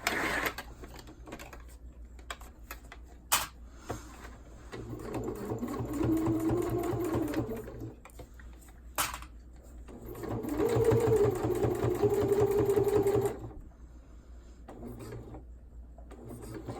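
Domestic sewing machine top stitching a PUL cloth diaper, whirring in two steady runs with a brief stop between, plus sharp clicks, close and fairly loud.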